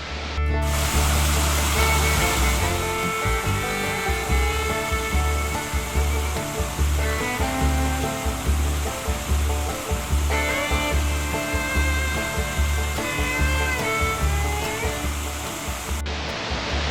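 A small waterfall in Tiadaghton State Forest rushes with a constant, dense hiss of falling water, loud and close, holding steady with a faint low throb underneath.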